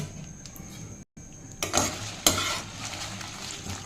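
Dried red chillies roasting in oil over a low flame for idli podi, a close sizzle with spoon stirring and scraping against the pan, a brief gap of silence, then louder scrapes and a sharp clink.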